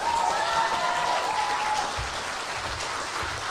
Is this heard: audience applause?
yes